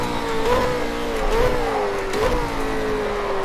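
A racing car engine in the video game Project Cars 2 revs steadily with a smooth mid-pitched drone, rising and dipping in pitch a few times, loud and continuous with no talk.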